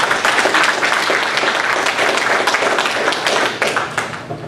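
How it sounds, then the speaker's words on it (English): Audience at a county government address applauds the county commissioners, a loud dense clapping that holds steady throughout and fades slightly at the end. "a round of applause for our main speakers here, our county commissioners"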